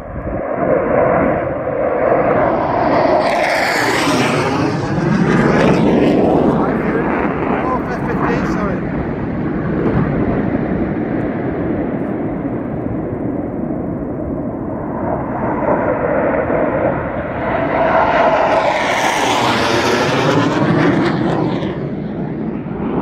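F-15 Eagle fighter jets fly through the Mach Loop, roaring loudly overhead in two separate passes, each swelling to a thundering peak before fading into a sustained distant rumble.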